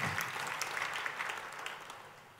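Church congregation applauding during a service, a dense burst of many hands clapping that is loud at first and slowly fades over a couple of seconds.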